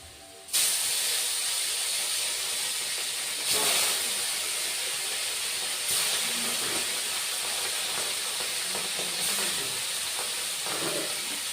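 Small charapona fish drop into hot oil and fry with a loud, steady hiss that starts abruptly and swells in brief surges, continuing without talk.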